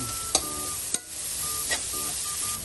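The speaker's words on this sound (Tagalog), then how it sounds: "Ang next step natin, magigisa lang tayo. Ayan na natin yung sibuyas. Konting bawang." Onion and garlic sauté in a pan with a steady soft sizzle, broken by a few sharp utensil clacks; close and moderately loud, with no talking.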